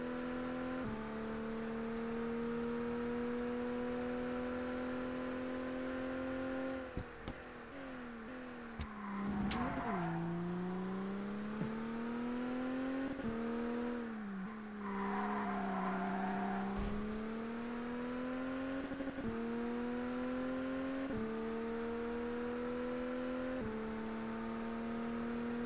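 A looped car engine drone from the ToCA Race Driver 2 video game, convertible racing: a steady whine rises and dips with gear shifts and revving, continuous and fairly close throughout.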